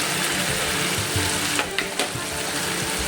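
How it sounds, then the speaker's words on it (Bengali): Pre-fried potatoes go into spice paste frying in oil for a jackfruit and shrimp curry. A dense close sizzle runs throughout, with a few louder bursts of spattering partway through as the potatoes hit the pan. "এই সময় আমি আলুগুলো দিয়ে দিচ্ছি"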